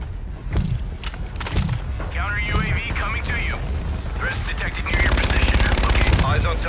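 Video game gunfight in a team deathmatch, with single shots and then a sustained rattle of automatic fire, plus mechanical whirs and chirping effects, fairly loud and close, with voice chatter mixed in.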